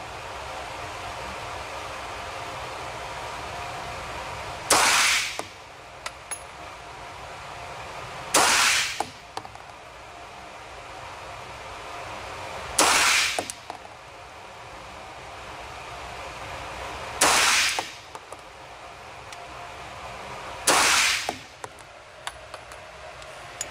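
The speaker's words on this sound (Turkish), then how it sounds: "Şimdi biraz daha alt tutarak 5 tane daha atacağım." A compact Sarsılmaz Armalite AR 24 K pistol fires five single shots, about four seconds apart. Each is a sharp, loud crack over steady background hiss.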